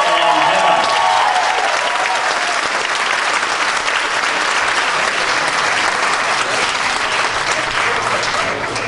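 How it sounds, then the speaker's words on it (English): A crowd at a Dancing With The Stars of Auburn charity dance event in 2010 gives sustained, dense applause for a dancer, loud and even throughout, with a voice briefly audible at the very start. "Big round of applause for Rocco."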